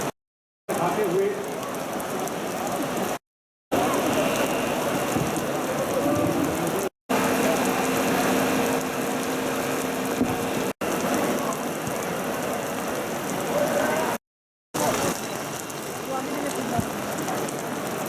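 Steady rain falls throughout an outdoor national flag hoisting ceremony in Ramban, a continuous broadband hiss broken by a few short gaps, with voices faintly present beneath it.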